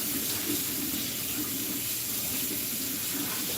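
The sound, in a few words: washing rice under running water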